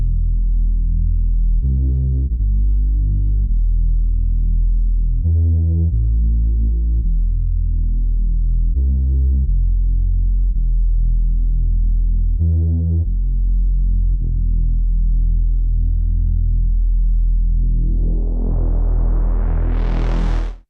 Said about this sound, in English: how to make a really nice, thick, smooth Reese bass sound in Vital